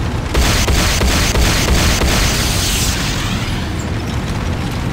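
A building blows up in the Command & Conquer Renegade game. A loud, sustained rumbling explosion carries a rapid burst of crackling debris and fades slowly.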